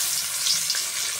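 Fish just added to hot oil in a pan on a home stove, frying with a bright, continuous hiss and sputter, near and fairly loud, no voices.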